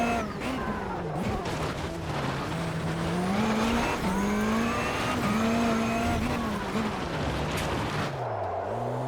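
Rallycross car cornering in the racing game Automobilista 2, its engine droning loudly and continuously with rising and falling revs, tires scrubbing through the turn and a downshift near the end.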